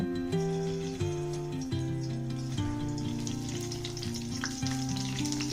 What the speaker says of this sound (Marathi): आता यामध्ये एक एक करून मसाला भरलेली वांगी अलगदपणे ठेवूया.